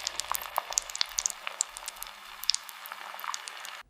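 Gentle, close-up sizzling of a melting, bubbling cube, rendered as AI-generated ASMR: a steady hiss dotted with tiny crackles and pops, soft and continuous, no voices, cutting off abruptly at the end.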